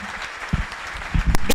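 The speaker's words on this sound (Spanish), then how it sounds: "Pido un aplauso para los debatientes." A seated audience at an economic debate on a presidential campaign applauds the debaters. The clapping is a brief, fairly close burst with a few heavier thumps mixed in.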